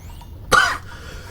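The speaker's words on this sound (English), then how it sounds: "it'll be great when I can stop coughing" A single person coughs once, a short close burst standing alone against quiet background noise.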